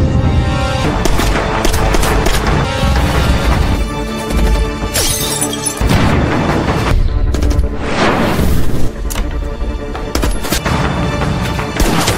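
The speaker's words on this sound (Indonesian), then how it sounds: "Seketika baku tembak pecah dan pergelutan sengit pun tak terhindarkan" Heavy gunfire erupts in a mafia action film shootout, with dense bursts of shots, crashes and shattering impacts overlapping in a loud, chaotic barrage throughout.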